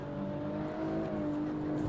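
A Mazda MX-5 race car circling Lime Rock Park on a hot lap, its engine holding a steady, loud drone with a slowly rising pitch, heard from inside the car with no talk.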